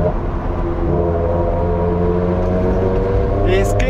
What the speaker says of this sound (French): Mais le niveau sonore de base, en short shiftant, est déjà indécent.